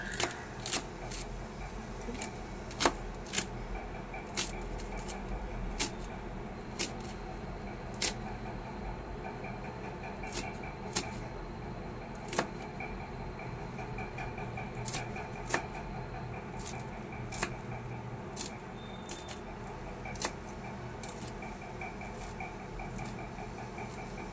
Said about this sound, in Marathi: हे आपण असे एकदम बारीक कट करून घेऊया